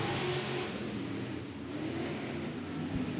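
Sport modified race cars roar around a dirt oval at El Paso County Raceway, a distant, steady engine drone with no clear pass-by peaks.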